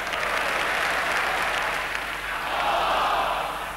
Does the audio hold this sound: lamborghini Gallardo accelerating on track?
no